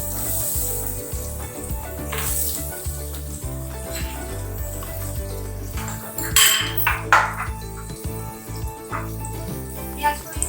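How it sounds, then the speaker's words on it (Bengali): Chopped onion tipped into a pan of cardamom and spices for mutton yakhni pulao, then stirred, with close metallic scrapes and clinks of a spoon against the pan over a steady low background hum. "এবার আমি পেঁয়াজ কুচিটা দিয়ে দেবো।"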